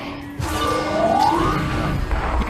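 A disc striking the glass in a VR sports video game, heard as a loud crash followed by a rising, ringing sweep over steady game noise.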